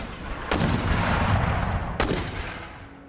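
Artillery and mortar fire in the video game Empire Total War, two sharp booms about a second and a half apart over a dense rumbling battlefield din.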